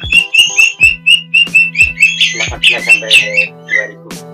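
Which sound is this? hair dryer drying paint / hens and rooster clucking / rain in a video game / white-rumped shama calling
white-rumped shama calling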